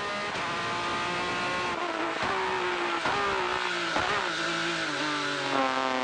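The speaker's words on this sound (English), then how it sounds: "I love the sound of that downshift" A Porsche GT3 Cup race car on a street circuit in Toronto, its engine revving high then blipping through a series of stepped downshifts, loud and steady with no talk.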